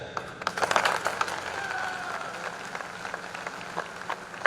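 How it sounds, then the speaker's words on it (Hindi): Audience applause at a Hindi political speech event in Nagpur, a broad wash of many hands clapping, fairly close and steady, fading slightly toward the end with no talk over it. "आपने हो सकता है भावनाओं में ताली बजाई है"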